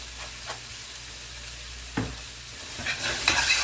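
Chili con carne stirred in a pot, a low simmering sizzle broken by a few distinct spoon scrapes and a louder stir near the end, close and alone.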